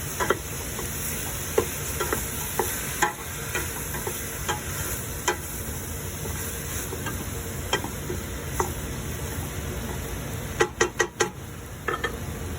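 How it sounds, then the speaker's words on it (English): Rice and mung beans get stirred in a cooking pot, giving scattered soft clicks and scrapes of a utensil over a faint sizzle, with a quick cluster of taps near the end. "add in the rice and the mung beans. Just to give it a good stir."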